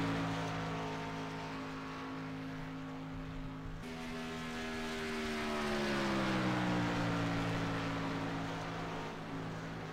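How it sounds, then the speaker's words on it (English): A race car engine in a sim racing game drones steadily and then dips and wavers, its pitch sliding down unevenly as the car runs out of fuel, loud and close with no talk. "you hear the car sputtering"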